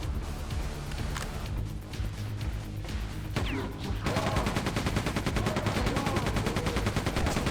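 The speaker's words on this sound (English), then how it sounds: "It's like the best machine gun in gaming, this one." Machine gun fire in the video game Quake II, loud rapid bursts at first, then a dense, continuous stream of fast repeated shots in the second half, with occasional impacts.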